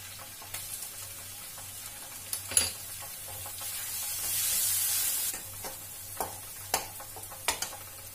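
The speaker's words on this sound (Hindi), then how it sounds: "लहसुन का पेस्ट डाल रही हूँ थोड़ा सा अदरक का पेस्ट डालूंगी थोड़ा सा हरी मिर्च का पेस्ट डालूंगी" Garlic, ginger and green chilli paste sizzling in a pan of hot oil for veg Manchurian gravy: a quiet, steady sizzle with a brief hissing surge midway and scattered clicks of stirring.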